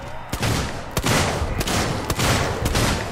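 Gunfire from a weapon in the sci-fi horror video game Alien: Isolation, several loud sharp bursts spaced roughly half a second apart over a dense, noisy game backdrop.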